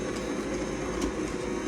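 Electric kitchen blender whirring at a lower speed while mixing pumpkin bread batter, a steady continuous motor hum with no talk over it.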